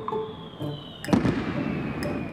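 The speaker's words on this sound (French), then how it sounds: "de puissants bruits de pétards retentissent à travers toute la ville" Firecrackers and fireworks going off across Naples at night, a sharp loud burst near the middle followed by crackling booms spread through the city, with a faint whistle streak overhead.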